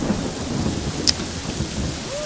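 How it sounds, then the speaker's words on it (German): Thunderstorm in the video game Yonder: The Cloud Catcher Chronicles, with steady rain hissing throughout and a low rumble of thunder rolling underneath, plus one brief sharp crackle partway through. "Ah, Gewitter!"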